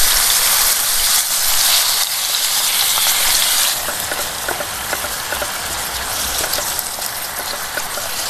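Chicken fries in a pan at an outdoor campsite, a loud crackling sizzle that eases slightly midway, with small spatters and stirring ticks, close up and without speech.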